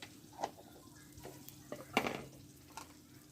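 Chili frying in oil in a pan with whole cumin gives a soft continuous sizzle, broken by a few sharp clicks and scrapes of stirring against the pan.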